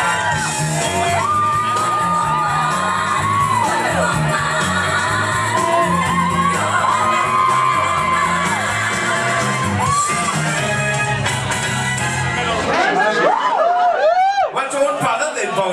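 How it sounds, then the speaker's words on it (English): Audience at a drag show in a Newcastle bar whooping, cheering and shouting loudly throughout, a dense crowd roar with music underneath, swelling again near the end. "Put your hands together for Miss Vicky Paris!"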